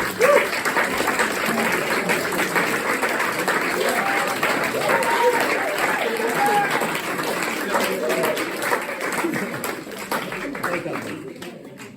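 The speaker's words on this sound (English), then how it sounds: "can we all just give a big round of applause for our Year 6 up, who are all integrated fully" Audience applause at a weekend-away introductory session, a long, steady round of dense clapping from a crowd, with voices and cheers mixed in, tapering off near the end.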